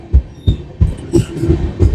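Rail travel on the Kolkata–Jammu Tawi express near Ayodhya station: a steady series of heavy, low wheel thumps at roughly three per second, close and fairly loud, with a faint hum between beats.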